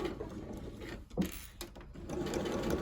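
A sewing machine runs close up, stitching a skirt seam forwards and backwards at stitch length 3, a continuous whirring hum with a brief pause in the middle, no one talking.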